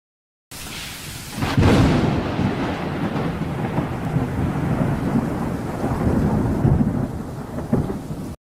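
A thunderstorm with a loud crack and rolling rumble of thunder over steady heavy rain, the rain hissing continuously throughout and the thunder swelling again toward the end.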